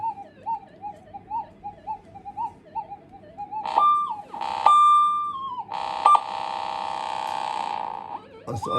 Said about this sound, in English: This is what the detector does out in the field for the guy.